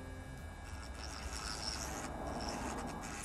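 A small electric rotary tool fitted with a fine 0.8 mm drill bit grinds at a steady, faint rasp as it gradually enlarges holes in metal, continuous and alone for a few seconds.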